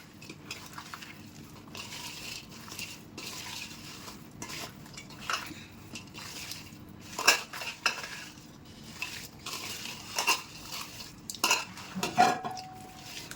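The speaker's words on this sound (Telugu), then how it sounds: "ఇంక దీన్ని డబ్బాలో పెట్టేసి మూత పెట్టేస్తాను నేనైతే." Green mango pickle is packed into a container and its lid is closed, making scattered clinks and clatters of a utensil and container over a quiet background, louder knocks toward the end, with no speech.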